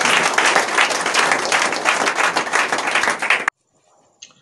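A church congregation at a night prayer vigil bursts into loud, sustained applause and clapping for about three and a half seconds, then it stops abruptly, leaving near silence with a faint sound after.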